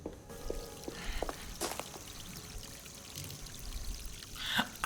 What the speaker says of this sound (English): Water's turned on.